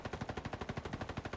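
Rapid suppressed automatic gunfire in a Roblox shooter game, a steady rhythmic burst of muffled shots repeating about ten times a second, loud and continuous with no talk.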